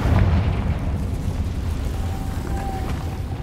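A Confringo fire spell detonates in the Hogwarts Legacy video game, a loud rumbling blast that rolls on as a dense, sustained boom with no voices.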